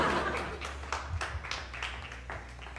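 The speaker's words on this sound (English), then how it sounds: "I'm clapping because everybody else is clapping." Studio audience of a late-night comedy show clapping briefly and softly, a short scattered patter of hands with a few chuckles, no talking.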